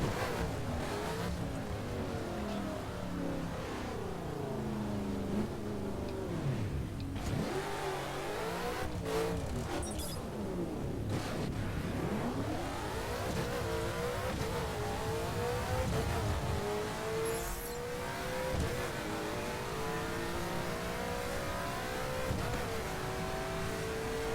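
A race car in the video game The Crew roars as it accelerates hard with nitro on a straight drag strip, a steady high-revving engine note rising and shifting throughout with no talk over it.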